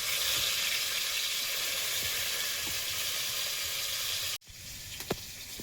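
Dried red chillies hit hot oil to temper boiled chickpea dal, giving a loud, dense, continuous hiss up close that cuts off abruptly near the end, followed by quieter sizzling and a few small clinks. No voices.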